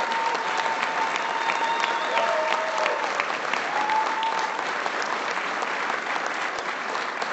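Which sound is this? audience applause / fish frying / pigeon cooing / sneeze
audience applause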